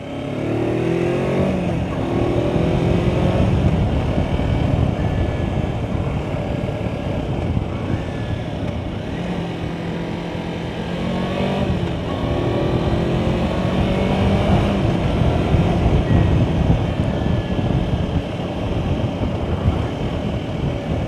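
A brand-new Kawasaki Versys X 250 touring motorcycle ridden on the road, its engine droning steadily with rising and falling revs through gear changes, loud and continuous with wind noise.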